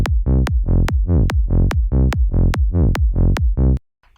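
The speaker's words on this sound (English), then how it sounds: "So that sounds like a fun little swinging melody to me, which we can use for this bass line." Swinging psytrance synth bassline: rapid, punchy repeated bass notes with sliding pitch, interleaved with sharp kick-like clicks at a steady bouncing rhythm, loud and alone, stopping abruptly near the end.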